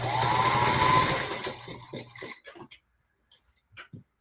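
A sewing machine stitches a fabric postcard, running steadily for about a second and a half before trailing off into a few scattered small clicks and taps.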